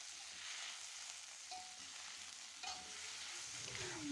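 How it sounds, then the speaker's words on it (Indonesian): Ketul being stir-fried in a pan with the usual seasoning of stock powder, sugar and oyster sauce, giving a steady close sizzle with scraping stirs throughout and no talk. "Yang ini kita tumis dulu."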